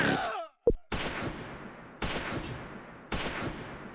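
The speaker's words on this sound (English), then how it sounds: "1st Platoon's Browning medium machine gun gets the worst end of a machine gun duel" A machine gun duel in the World War II game Close Combat 4, set in the Battle of the Bulge at Losheim, arrives as a few sharp, separated bursts with a sudden crack near the start and short decays between shots.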